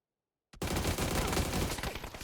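Sudden rapid gunfire erupts after a half-second of silence in a PUBG esports match, a dense, loud burst of automatic shots continuing without pause.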